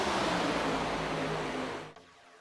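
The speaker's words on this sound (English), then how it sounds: "listen to these cars purr. I mean, they sound great." A pack of GEN4 stock race cars at Talladega in a racing video game gives a steady, full engine roar with faint droning tones, then cuts off sharply near the end.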